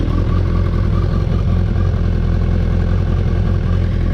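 An old big-engine motorbike idles unevenly before warming up, a loud, close, continuous lumpy rumble with a clattery edge and no talking.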